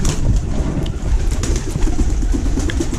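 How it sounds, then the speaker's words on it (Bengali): A pigeon cooing softly at close range in a home loft, low throaty coos over a busy background hum. "এই যে কবুতর"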